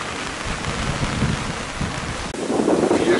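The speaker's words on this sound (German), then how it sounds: "Jetzt regnet es auch noch" Steady rain at sea falls on an outrigger canoe race during the Hawaiki Nui Va'a in Polynesia, a dense, continuous hiss mixed with gusting wind noise, loud and close, without any talking.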